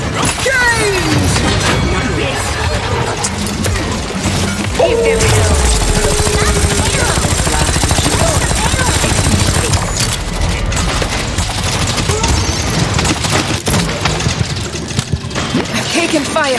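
Dense, loud gunfire and explosions fill a competitive Paladins match, sustained bursts layered with mechanical weapon noise and game effects throughout, with in-game voice lines heard over the din.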